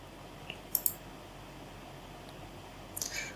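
Soft computer mouse clicks, a few quick taps near the start and a couple more toward the end, faint and close against quiet room hiss.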